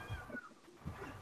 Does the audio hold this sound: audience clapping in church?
no